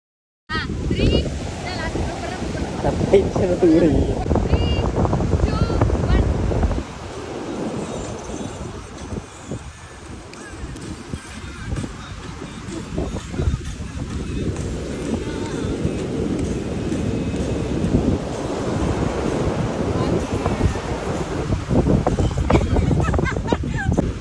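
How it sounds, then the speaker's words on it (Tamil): Strong wind gusting outdoors in Nagercoil, a loud broadband roar buffeting the microphone throughout, easing briefly midway before building again, with faint voices in the background. "காற்று வந்து செம்ம காற்று."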